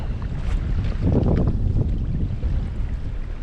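Gusty wind buffets a microphone on a pedal kayak out on a lake in December, a loud, rumbling, steady roar that swells midway, with no voices.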